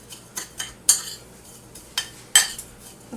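Grated cheese and olive oil stirred together in a bowl for a stuffed pepper topping, a few sharp metallic clinks and scrapes of a utensil against the bowl, spaced irregularly and close by.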